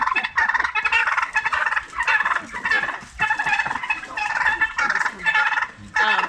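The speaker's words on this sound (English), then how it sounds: "Maybe we'll chase them turkeys away so we can hear." Turkeys gobbling loudly and repeatedly nearby at a donkey rescue facility, several calls overlapping in bursts with brief pauses between them.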